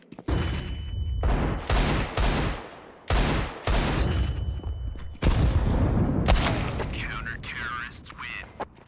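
Flashbang and gunfire in Counter-Strike 2: a series of loud, sharp bursts and volleys repeating in clusters over several seconds, with a high whine mid-clip, close and dense.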